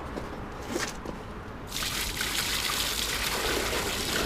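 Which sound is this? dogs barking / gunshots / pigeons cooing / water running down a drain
water running down a drain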